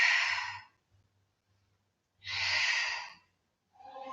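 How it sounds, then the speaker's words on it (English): Slow, deep breaths during a Pilates exercise sound as two long, airy exhales separated by a silent pause, followed by the start of another breath, all close and fairly loud. "Keep this going, a few more deep breaths."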